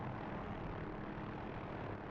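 An OH-6A helicopter flying in the DCS flight simulator, a steady loud broadband rotor and engine roar that holds constant throughout with no voices.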